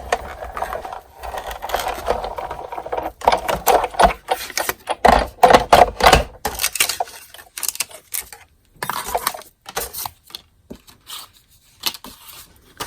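A Big Shot die-cutting machine with magnetic platform and cutting pad cranks cardstock through, giving irregular clattering, clicking and ratcheting bursts at close range, with brief pauses between.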